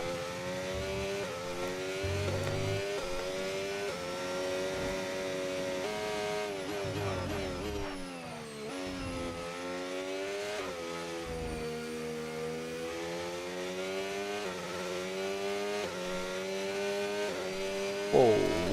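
A laboured Formula 1 car engine from a modded F1 racing video game drones steadily for the whole stretch, loud and close, its pitch climbing and dropping through gear changes with no talking over it.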